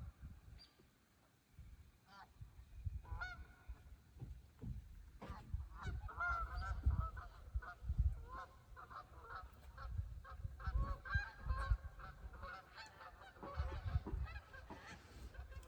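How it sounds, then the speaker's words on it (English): Waterfowl honking repeatedly beside a lake, loud and fairly close, with irregular overlapping calls over quiet outdoor background throughout. "You may hear some ducks passing by."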